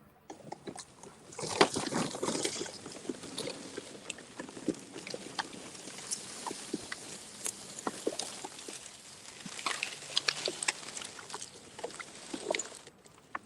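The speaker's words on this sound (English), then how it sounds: "I realized you're just driving over sticks. That's what the noise is." A Segway Ninebot GoKart Pro Lamborghini Edition rolling low over sticks outdoors, giving a steady crackling, patter-like rustle with frequent sharp snaps and pops throughout, fairly close and without talk.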